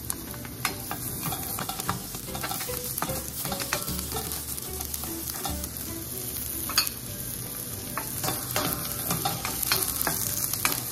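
Garlic and onion frying in a pan for a chayote sauté, with a steady broadband sizzle and frequent clinks of a utensil stirring against the pan, close and continuous without talk.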